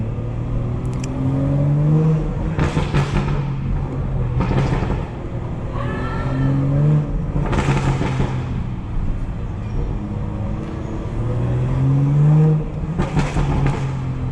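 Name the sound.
tuned BMW car engine revving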